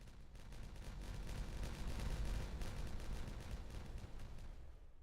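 A detonation in a survival-building video game sets off a long, dense rumble of crackling blasts and low booms that swells to a peak midway, then rolls on steadily without fading, with no talk over it.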